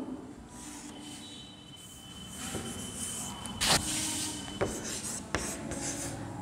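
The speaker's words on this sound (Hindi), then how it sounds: "मैं आपको नीचे में लिख के दिखाती हूँ।" Marker or chalk writing by hand on a board during a kindergarten Hindi lesson, a faint, steady scratchy stroking with a few sharper taps of the pen against the surface, close and quiet, with no talk.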